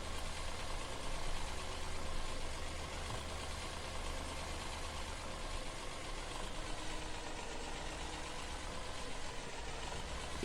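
John Deere tractor engine in Farming Simulator 17, a steady low diesel drone idling or running at constant speed, faint and unbroken for the whole stretch with no talk.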